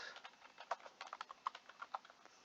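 Typing on a computer keyboard while entering code into a Google Colab notebook, a quick, uneven run of light key clicks heard alone at a moderate, close level.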